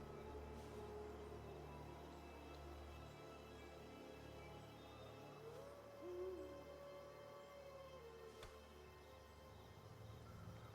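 A bird creature in the Magic Arena card game gives a faint, soft hooting call amid a quiet, layered game soundscape, with a brief swelling tone midway and a sharp tick near the end.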